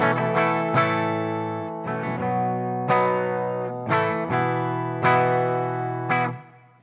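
Clean electric guitar tone played with a capo: a series of plucked notes and chords, each ringing out and decaying, at a moderate level with no talking.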